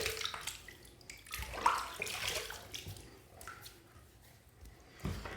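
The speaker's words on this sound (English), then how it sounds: "I'm just going to take this bloom water here, and I'm going to dump it in there like that" Water dumped into a container while preparing for a head shave produces a sloshing, splashing pour that swells and fades, with a further splash near the end, all fairly quiet and close.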